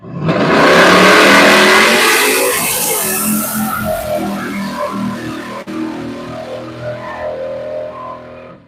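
A Chevy Nova race car with a 632 engine revs hard and loud at a motorsports park drag strip, a roaring, rasping engine note that swells then settles into a steady throaty rumble, with no voices.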